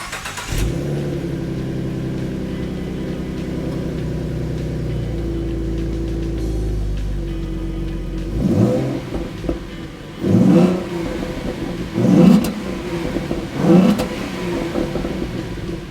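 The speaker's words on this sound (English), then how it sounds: "let's give you some sound clips of the factory V6 exhaust." A factory V6 Ford Mustang engine with stock exhaust idles smoothly for several seconds, then gives a series of short, sharp revs that rise and fall, each followed by a return to idle.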